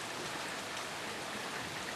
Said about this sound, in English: Much needed rain.